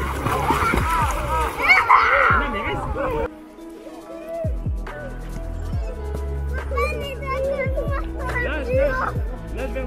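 A child ducks their head into water on a family summer holiday, with splashing near the start followed by children's and adults' voices chattering over the rest.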